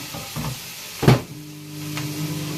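A single solid thunk of a microwave door shutting, followed by a steady low electrical hum as the microwave starts running.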